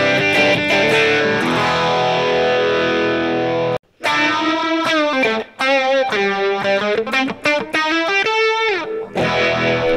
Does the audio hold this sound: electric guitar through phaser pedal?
yes